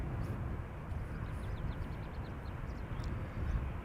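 A KLM Boeing 737-900, 23 years old, departs Schiphol airport, its jet engines producing a steady, loud broadband roar that holds evenly throughout with no talk.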